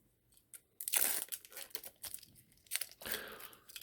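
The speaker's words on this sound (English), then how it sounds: "Let me take some of this silly plastic off for you guys" Protective plastic film is peeled and pulled off an Orient Day-Date SEV0J001WY watch, making close, quiet bursts of crinkling and tearing that come in several irregular pulls with short pauses between.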